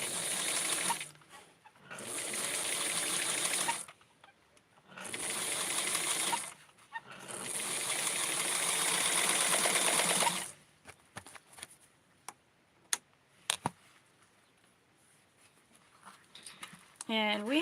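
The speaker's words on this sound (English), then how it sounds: "And massaging the thread and sew this other piece down." Home sewing machine stitching down a fabric piece for custom lace doll clothing: three sustained loud runs of motor whir with short pauses, followed by quieter clicks and handling noises.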